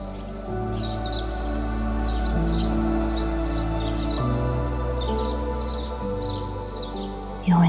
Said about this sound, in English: and listen to the birds singing.